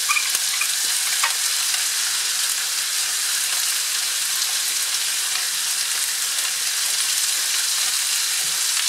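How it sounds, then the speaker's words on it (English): Pork fries in a hot pan with a loud, continuous sizzle and crackle, a dense hiss that holds steady throughout without any voices. "And then I'm gonna go ahead and add my pork."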